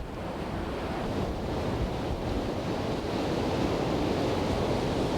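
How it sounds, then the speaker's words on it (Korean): Calm sea waves wash steadily off the Korean coast where dolphins are watched, a soft continuous surf hiss with some wind buffeting the microphone and no voices. "잔잔한 파도를 보고 있습니다"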